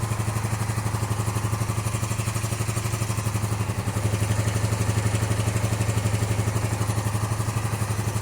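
A cafe racer motorcycle's four-cylinder engine running on a stand with both exhausts spewing air, a steady, rapid, uneven pulsing idle close by that may not be firing on all cylinders, no voices.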